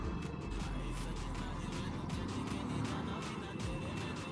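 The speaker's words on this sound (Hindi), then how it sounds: "ओ भाई यहाँ का ट्रैफिक कभी खत्म नहीं होने वाला" Night road traffic on a busy city flyover rumbles continuously, with vehicles passing close in a dense low drone and intermittent engine swells, fairly faint and steady with no clear voices.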